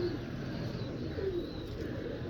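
Domestic breeding pigeons, including a female, give two short low coos about a second apart, close by, over a constant broad background hiss from the loft.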